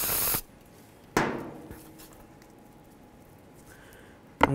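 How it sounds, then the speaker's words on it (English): Parts cleaner sprays onto a brake caliper bracket from a Ford Edge rear brake job, with a sharp hissing burst at the start and another short spray midway, then quiet, ending with a clatter. "Tip it over, give it another quick spray."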